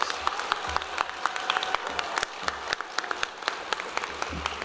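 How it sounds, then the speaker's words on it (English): An audience at a high school and adult education commencement ceremony applauds steadily, a dense wash of many hands clapping with no voices over it. "So give yourselves a round of applause."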